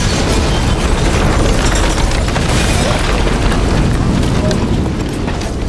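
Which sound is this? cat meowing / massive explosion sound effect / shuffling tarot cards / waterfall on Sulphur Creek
massive explosion sound effect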